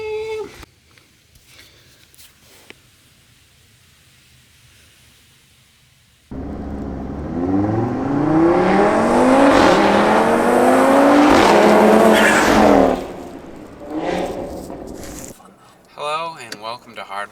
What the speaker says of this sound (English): The RS3 is officially back on the road. We have our break-in miles done, and now we can kind of boost it a little bit.